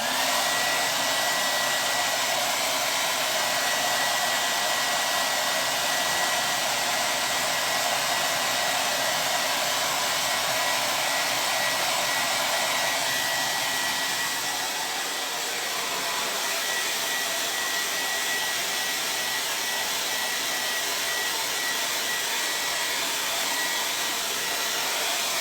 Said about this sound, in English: Blow dryer again.